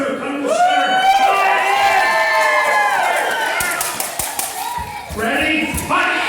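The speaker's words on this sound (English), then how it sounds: "Come on, cheer for red, cheer for blue." A crowd of onlookers cheers and calls out at a demonstration of armored sword fighting, a steady swell of mixed voices, with a few sharp thuds and a brief lull before the noise picks up again.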